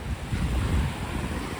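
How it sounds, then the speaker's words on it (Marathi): Sea waves at Kihim beach roll in as a brief, steady surf wash, mixed with buffeting wind noise on the microphone. "पाणी जास्त आहे आणि लाटा पण आज येतात"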